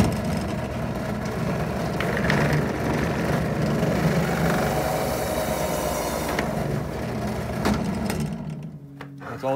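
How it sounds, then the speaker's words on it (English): A Harbor Freight drill press drives a 50 millimeter hole saw through a plastic bucket lid, giving a steady motor whir and grinding cut that runs continuously before winding down near the end. "to cut this hole inside of our lid, we're gonna use the 50 millimeter hole saw that we got off Amazon"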